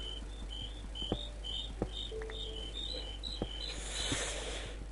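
Insect-like chirping repeats in a quick, regular series in the Minecraft video game, faint and thin over a low steady hum, with a few soft clicks in between and no talking.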